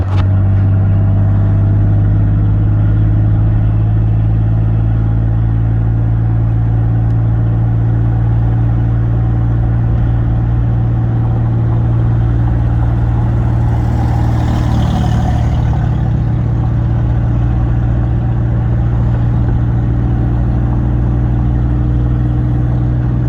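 A 2004 Ford F-150 pickup truck drives in third gear with a steady, loud low engine drone and road rumble throughout, and a brief swell of louder noise about two-thirds of the way through.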